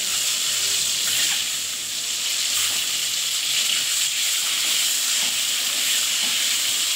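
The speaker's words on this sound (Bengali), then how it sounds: "এবার এটা সবকে লাল লাল করে ভেজে নিব।" Eggs coated with salt and turmeric fry in a pan, giving off a continuous close sizzle and hiss that holds steady throughout without any talk.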